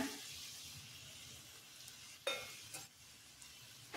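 Potato slices and crushed roasted peanuts being stirred in a pan, a soft steady sizzle with a few brief scrapes of a spoon against the pan, fairly quiet and without talk.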